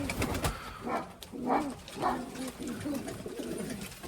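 Crested, shaggy-footed flying pigeons coo in soft repeated throaty bursts, fairly close, with people talking quietly among them.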